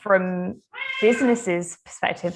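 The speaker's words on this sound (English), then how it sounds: "sorry, that's my cat." A house cat meows loudly several times in drawn-out calls, interleaved with a person talking nearby.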